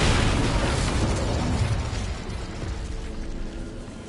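An Incendio fire spell cast in the game Hogwarts Legacy, a loud close burst of roaring flame that fades slowly over a few seconds.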